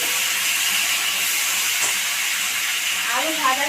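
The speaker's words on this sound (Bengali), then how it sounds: "তেল গরম হয়ে গেছে, এবার আমি আলুগুলোকে দিয়ে দেবো" Potatoes drop into hot oil in a wok and sizzle, a loud steady close hiss of frying that carries throughout, with a faint voice briefly near the end.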